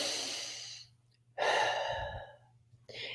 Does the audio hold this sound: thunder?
no